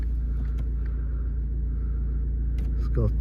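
A Volkswagen Golf 1.6 TDI BlueMotion diesel with about 95,000 miles idles just after start-up, a steady low rumbling hum heard close up, with a few faint clicks and a brief rising whine near the end.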